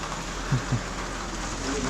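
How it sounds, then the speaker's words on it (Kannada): Rain falling at Horanadu makes a steady, even hiss of moderate loudness that runs through the whole moment, with a couple of faint low thumps near the start and no voices. "ಇವಾಗ ಮಳೆ ಹೊಡಿತಾ ಇದೆ"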